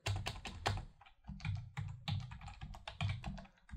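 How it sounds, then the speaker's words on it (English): Typewriter keystroke sound effects triggered by key presses in a Python script on Linux, a quick run of crisp clacking taps in irregular bursts, fairly quiet and with no voice. "But if we hit any other key, it's just going to play our keystroke sound."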